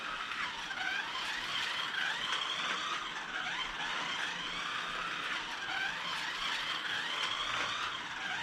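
A small-scale Scalextric slot car runs laps on a Carrera Go Max Competition 1/43 track, its motor giving a steady, continuous electric whine with a rising and falling pitch, fairly near and with no voices.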